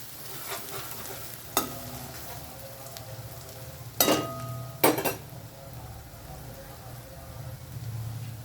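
Ginger garlic paste and spices fry in a pan with a steady low sizzle. Three sharp clanks of a spoon against the pan stand out over the hiss.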